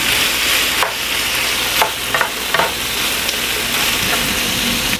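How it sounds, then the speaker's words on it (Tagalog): Chicken pieces for adobo fry in a hot pan with a dense, continuous sizzle, broken by several scraping stirs. The sound is close and loud, with no talking. "Ayan, medyo napaprito na siya."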